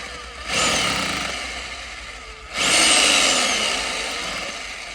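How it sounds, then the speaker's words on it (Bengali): Two loud bursts of a power drill grinding into hard material, each lasting about two seconds, separated by a brief lull. "এই কংক্রিট এরকম মানে সুই সুই করে ঢুকে গেল ড্রিল"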